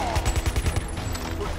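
A rapid run of gunshots in Mortal Kombat vs DC Universe, evenly spaced loud pops for about a second over a steady game background.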